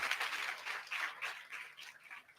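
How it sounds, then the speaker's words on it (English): An audience at a national conference applauds the guests seated on the dais, a continuous wash of many hands clapping. It holds fairly even and moderately loud, then tapers slightly toward the end. "may I have a huge round of applause for all the guests on the dais?"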